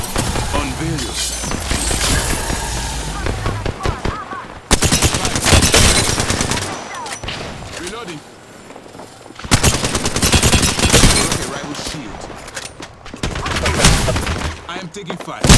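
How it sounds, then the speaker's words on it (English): Gunfire in Apex Legends during a match finale on PS5: loud bursts of rapid automatic fire come in several clusters separated by quieter gaps, with game voice lines mixed in. "I am taking fire."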